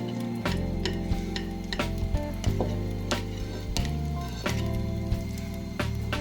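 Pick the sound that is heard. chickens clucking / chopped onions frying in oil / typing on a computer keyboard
chopped onions frying in oil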